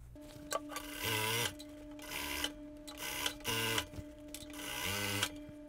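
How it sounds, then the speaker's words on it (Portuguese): Sewing machine stitching the waistband of flared denim jean shorts, running in short bursts of rapid whirring stitches with pauses between them, close and clear with no talking. "vou colocar direito com direito e costurar pela cintura, pela parte de cima"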